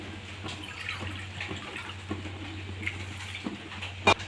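Water is poured into a bowl of sugar to make sugar syrup for langcha sweets, a soft steady trickling splash with a low background hum and a sharp clink near the end.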